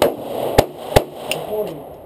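Two sharp handgun shots at an indoor shooting range, loud and close, spaced under half a second apart, with a quieter third report after, over a low murmur of voices.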